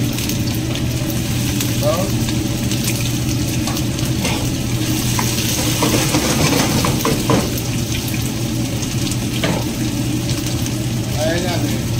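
Vegetables stir-frying in a pan, a steady broadband sizzle running throughout with occasional scraping and stirring clicks, while someone talks over the cooking.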